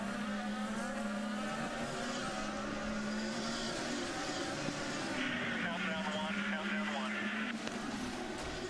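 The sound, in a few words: IndyCar race cars on the St. Petersburg road course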